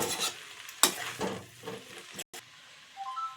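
A spoon scrapes and stirs through Telangana-style nalla fry curry in a hot frying pan, with a few sharp clanks and a soft sizzle between strokes, no voices.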